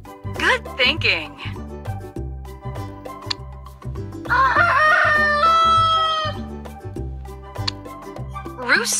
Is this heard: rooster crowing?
yes